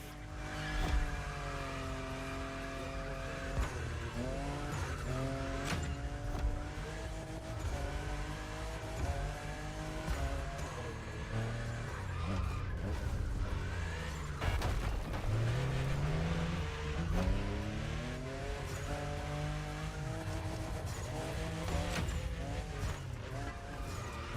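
A Toyota Supra, fifth generation, drives in the racing game The Crew Motorfest, its engine revving up and down through gear shifts with tire squeal, close and continuous.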